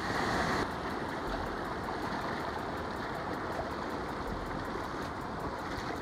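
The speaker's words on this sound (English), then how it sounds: "Now I'm walking under a waterfall." A steady, loud roar of rushing water, like a waterfall pouring into a fast creek, continuous and close with no pauses, heard from a trail passing under the waterfall at Evolution Creek crossing.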